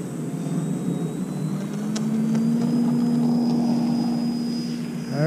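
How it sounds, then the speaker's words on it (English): A scratch-built RC bush plane taking off with its flaps up, its electric motor and propeller making a steady whine that slowly rises in pitch and grows louder, heard close over outdoor background noise. "We're going to do a no flap takeoff to begin."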